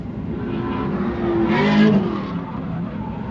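BMW and Nissan Z drift cars battle in tandem at a pro-class drifting event, engines roaring and tires squealing as they swell together into a louder burst near the middle, then ease off.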